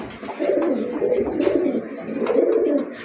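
A male fancy pigeon, a breeding bird, coos steadily and close by in a continuous rolling series of low, throaty calls with no talking.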